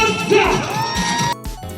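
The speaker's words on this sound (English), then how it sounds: "Keep a round of applause!" A crowd at a motor show with a stunt show whoops and yells in loud, close bursts of cheering, then breaks off abruptly before a quieter tail.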